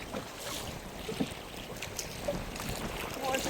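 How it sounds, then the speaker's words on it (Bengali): Strong storm wind gusting over a small fishing boat on open water in the Sundarbans, a steady broadband roar with rising gusts and lapping water, close and continuous throughout. "প্রচন্ড হাওয়া হচ্ছে"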